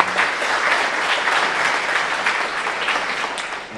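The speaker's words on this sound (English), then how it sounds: "So a huge round of applause for all of them" Audience at a university speaker session giving a big round of applause, a thick continuous patter of many hands clapping at full volume, slightly swelling and easing but never stopping.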